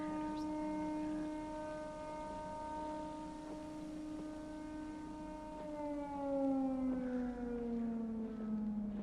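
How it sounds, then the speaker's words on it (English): Wailing alarm sirens from the Siren Head horror game, a long sustained multi-tone howl that holds steady and then slides downward in pitch near the end, loud and continuous with no talking. "Here comes the alarms."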